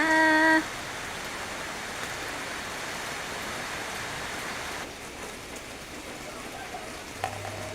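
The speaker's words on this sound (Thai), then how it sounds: "ฝนก็ตกแรงอยู่เหมือนกันนะคะ" Heavy rain pours steadily outdoors, a dense, even wash of noise at moderate level that runs alone for several seconds after a brief tonal sound at the start.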